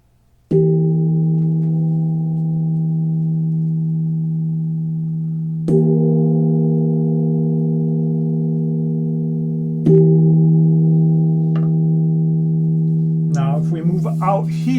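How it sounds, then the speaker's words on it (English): A nipple gong, a bossed, cupped gong about 18 inches across, is struck on its raised centre boss three times, each stroke giving a pure, steady sustained note tuned to E that rings on without fading much. Speech begins at the very end. "So commonly called a nipple gong, a bossed gong, or a cupped gong"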